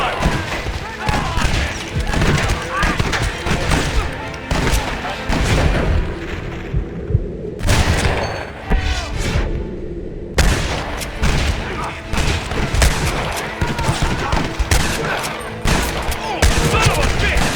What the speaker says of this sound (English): What about the Gatling gun?